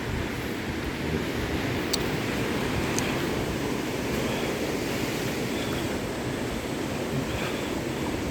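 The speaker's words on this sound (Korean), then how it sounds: "아주 바다가 멋있습니다 파도도" Ocean surf rolls onto the shore at a beach at Samcheok sculpture park, a steady broadband roar with a little wind noise and no speech.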